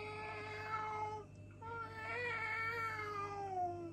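A human voice drawing out long, wavering meows in imitation of a cat, pitiful and whiny, with a brief pause midway.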